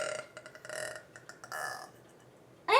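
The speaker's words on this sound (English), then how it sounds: "I could make myself burp." A person burps repeatedly, short rough eructations in a choppy series, ending with a louder, closer burp.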